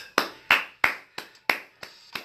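Seven slow, even hand claps, sharp and close, spaced about a third of a second apart, mimicking people clapping a runner home on the final lap of a race.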